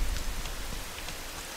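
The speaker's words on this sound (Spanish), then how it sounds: "fijaros la importancia de la lluvia." Steady rain falls in the video game Rain, a soft continuous hiss of drops with faint scattered patters, even and moderately quiet throughout.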